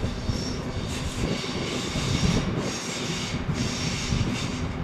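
An SBB Cargo train rolls past in the Alpine region, a steady, loud rumble of wheels on rails with recurring metallic squeals from the wheels, continuous throughout and free of speech.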